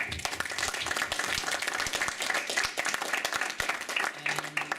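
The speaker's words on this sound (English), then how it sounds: "Please join me to applause." Audience applause closing a lecture by Dr. Bora Keskiner on calligraphers of the Ottoman sultans: a dense, steady wash of many hands clapping that lasts throughout, with a faint low hum near the end.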